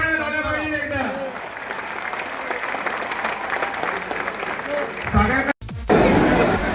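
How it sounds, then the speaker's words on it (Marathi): A crowd at a Ganpati pandal in Pune breaks into loud, sustained applause after a voice calls out, the clapping continuing for several seconds before cutting off, with more voices following. "जोरात टाळ्या झाल्या पाहिजे एकदा"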